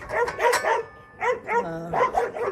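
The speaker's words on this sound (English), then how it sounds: "Dogs are yapping at the neighbor dogs." Several dogs bark and yap excitedly at neighboring dogs, with quick clustered barks and a whiny yelp, close and fairly loud, continuing in bursts throughout.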